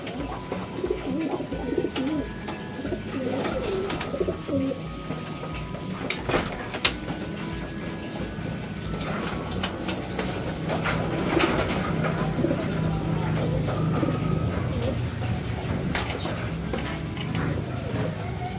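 Bred young pigeons, kept in a Philippine loft, coo and rustle over a steady background with scattered clicks and knocks, and a voice talks faintly now and then.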